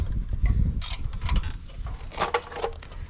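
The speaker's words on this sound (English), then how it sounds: "Trying to talk while Chance's ratcheting" A ratchet tightens bolts during front bearing and seal repair on a Ford F350, giving rapid clicking bursts and metallic clatter over low shop rumble, close and fairly loud, in several uneven runs.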